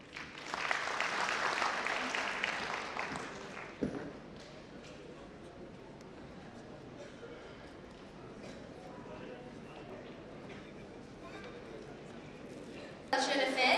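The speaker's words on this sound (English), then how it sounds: "a big round of applause for all of them." Audience applause at a college of architecture's annual day and foundation ceremony in Guwahati: a loud burst of clapping for about four seconds, then fading into quieter hall murmur, with a fresh round of clapping rising at the very end.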